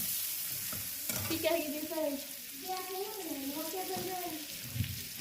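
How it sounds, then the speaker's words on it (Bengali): Chopped onions frying in oil in a pan, a continuous sizzle with stirring scrapes, while a voice talks over the cooking at moderate level. "প্রথমে দিয়ে দেবো পেঁয়াজ কুচি দিয়ে দেবো এবং পেঁয়াজটা একটু হালকা লাল লাল করে ভেজে নেব"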